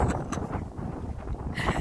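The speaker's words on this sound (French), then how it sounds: "il y a de plus en plus de vent" Gusts of wind buffeting a microphone outdoors, a low rumbling roar that keeps fluctuating, fairly faint and with no voices.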